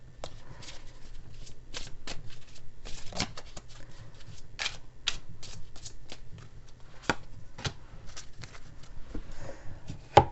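Oracle cards are shuffled and pulled by hand, a run of close, crisp riffles and sharp snaps coming in irregular bursts, with soft rustling between them and no talking.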